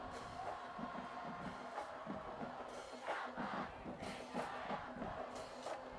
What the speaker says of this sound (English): You can hear the Indian crowd.